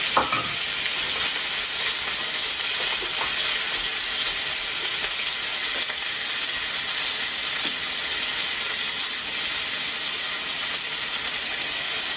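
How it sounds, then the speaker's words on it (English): Meat sears in a smoking-hot wok for a keto Pad Prik King with a loud, dense, unbroken sizzle and hiss. A sharp clatter marks the moment the meat hits the pan, and faint spatula scrapes follow, close up with no talk. "I'm just gonna throw it in the pan. I wanna get a good sear on it."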